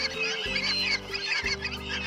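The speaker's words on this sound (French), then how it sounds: "on doit avoir 500 canards au-dessus, là, qui volent partout." In a hunting setting in Argentina, a large flock of ducks flies overhead, giving repeated loud honking calls in an overlapping chorus of nearby birds.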